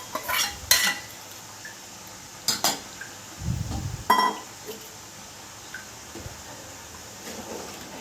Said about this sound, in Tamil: இதை எடுத்து நம்மளோட குழம்புல ஊற்றிக்கோங்க. ஊற்றி நல்லா கலந்து விட்டுக்கோங்க.